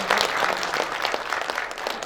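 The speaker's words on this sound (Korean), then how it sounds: "큰 박수 좀 부탁드립니다." Audience applause at a Korean Journalists' Day anniversary ceremony, honoring a guest from a citizens' media coalition; steady, dense clapping from a seated crowd, moderately loud and sustained throughout.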